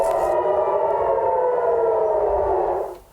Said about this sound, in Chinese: 空袭警报响起，